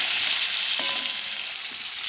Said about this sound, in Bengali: এখানে দেখো মাছ ভাজছি